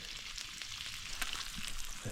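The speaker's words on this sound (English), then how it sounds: "Sizzling." Bacon sizzling and crackling in a pan, a steady fry with small pops, fairly quiet and close.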